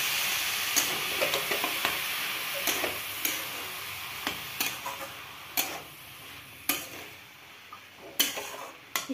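A spoon stirs drumstick flower curry cooked with mustard in a pan, giving soft scraping and frequent light clicks and taps against the pan over a low sizzle. It is close and fairly quiet, with no talking.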